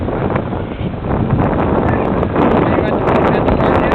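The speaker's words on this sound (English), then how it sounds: "It's windy as hell." Strong wind buffeting the microphone in an open park, a loud, rough low roar that gusts and swells unevenly throughout, with no voices.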